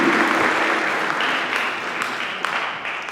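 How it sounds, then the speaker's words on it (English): Audience at a youth civic education panel gives a round of applause, steady dense clapping throughout that tapers slightly toward the end, with no voices over it. "So let's give him a round of applause."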